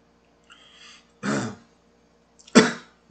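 A couple of short, rough coughs, the first a little after a second in and the second near the end, close by with quiet between.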